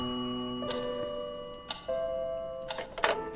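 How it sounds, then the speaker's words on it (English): A grandfather clock in the Scratches video game ticks gently and steadily beside held musical tones, with a few sharper ticks standing out near the end and no voices. "A majestic grandfather clock was gently ticking nearby."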